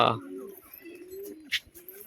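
Bali Powder and Biscuit-coloured pigeons coo in a loft: low, drawn-out murmuring calls repeat softly nearby, with a few short sharper chirps and a voice speaking at the start.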